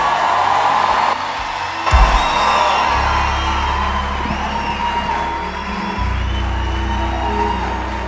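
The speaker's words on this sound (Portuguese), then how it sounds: "eu quero que você receba com uma salva de palmas" Inside a church during an evening service, the congregation cheers, whoops and yells in a loud, sustained crowd roar, with music and a booming low tone running beneath the noise.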